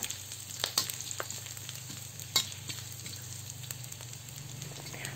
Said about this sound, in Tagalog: kapag mainit na ang mantika, ilagay na natin ang hiniwang luya